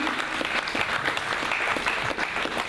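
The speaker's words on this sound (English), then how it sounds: "Could you give him a big clap and his team?" A school leaving ceremony audience gives a sustained round of applause, dense and even clapping that carries on steadily without a break.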